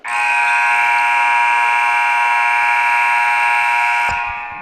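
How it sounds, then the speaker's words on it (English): A volleyball gym buzzer at a men's college match blares one loud, unbroken tone for about four seconds to start the second set, then cuts off abruptly into faint room noise. "And that buzzer rings loud and long for the start of the second set, Luis."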